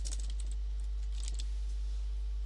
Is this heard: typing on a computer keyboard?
yes